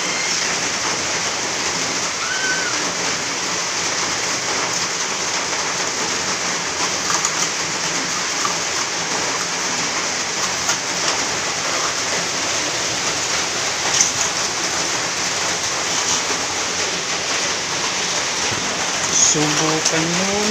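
Very heavy rain pours down steadily in a dense, unbroken hiss that runs for the whole stretch with little change in loudness.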